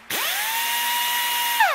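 Power drill used as a sound effect in a reggaeton song: a sharp spin-up into a steady, loud, high whine that holds and then winds down at the end, with no voices.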